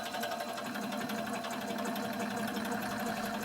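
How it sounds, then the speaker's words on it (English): A hole saw on a drill press cuts into half-inch aluminum bar stock, producing a steady, dense mechanical whir and grinding buzz that holds at an even level from start to finish. "Using a hole saw to take the majority of the material away, and then I'll finish the diameter with a boring bar setup."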